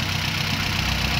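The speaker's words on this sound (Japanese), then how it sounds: "エンジンかけてみました。" A Honda Integra Type R DC2 engine idles steadily in a clean engine bay, a smooth, even mid-low hum held at constant loudness throughout with no talk.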